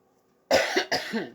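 Two harsh coughs close together, loud and near, after a moment of silence.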